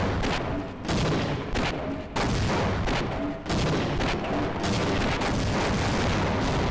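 Gunfire and grenade explosions in the PC game Half-Life, a dense, continuous barrage of loud blasts and shots with brief dips between bursts, no talking over it.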